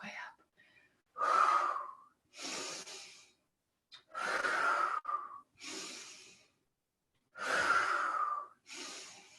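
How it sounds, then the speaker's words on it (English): Slow, deep breaths during a gentle mindful stretching routine, heard as about five long, close inhales and exhales in a steady rhythm with short silent pauses between them. "Inhale them all the way up. Exhale, sweep them backwards."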